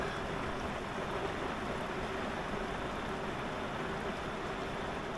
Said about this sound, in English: in the middle of the night we had quite a lot of rain, if you listen